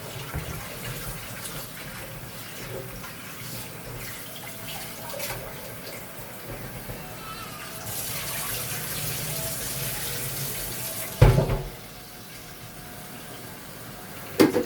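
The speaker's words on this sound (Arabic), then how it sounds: "نغسل بقى الرز العادي خالص." Tap water runs steadily into a sink while rice is washed in a home kitchen, a moderate rushing wash that swells for a few seconds and ends with a brief clatter.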